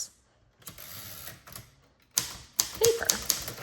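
Manual typewriter being adjusted while its margins are set, with scattered mechanical clicks, ratcheting and small metallic taps growing busier toward the end, close and fairly quiet.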